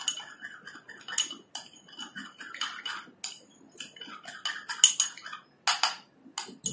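A steel spoon stirs a homemade face polish mixture in a bowl, giving irregular light clinks and scrapes in quick bursts with short pauses, close and fairly quiet, with no talking.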